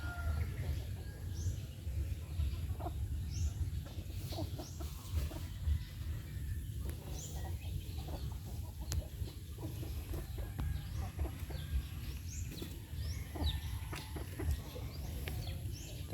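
Chickens cluck and call in short, scattered bursts over a steady low outdoor hum on a farm.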